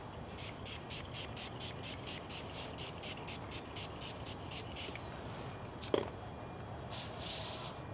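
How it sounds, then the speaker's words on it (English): Slip solution is sprayed on a car door seal in a rapid series of short hissing bursts in a steady rhythm, then a pause and one longer spritz. "Spray the door seal."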